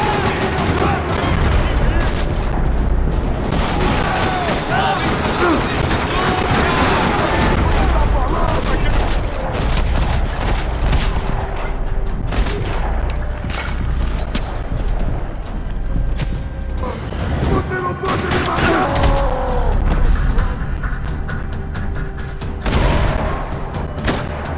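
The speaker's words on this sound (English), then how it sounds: "Another parking lot rattling with gunfire." Gunfire rattles through a parking lot in the video game Max Payne 3, dense bursts of shots and booms layered over game music and effects for the whole stretch.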